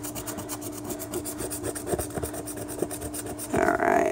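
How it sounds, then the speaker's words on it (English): Someone scratches the coating off a shiny lottery scratch ticket with quick, close, rhythmic rasping strokes, faint and steady, with a louder rub at the end. "Let's get this scratched off."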